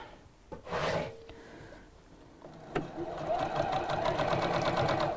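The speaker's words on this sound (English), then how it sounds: "So I'm sewing just underneath the hem, right, like that." A sewing machine stitches just beneath an existing hem, running in steady bursts with a brief pause before a louder continuous whirring stretch; a voice talks intermittently over it.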